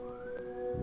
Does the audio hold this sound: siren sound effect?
yes